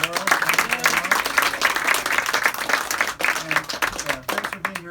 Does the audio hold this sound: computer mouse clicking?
no